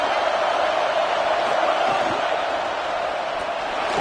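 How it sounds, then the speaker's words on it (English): A huge football stadium crowd roars steadily as the home fans try to rattle the offense and help their defense, a dense continuous wall of loud cheering with no break throughout. "Listen to this crowd just shaking the girders of this place trying to help their defense."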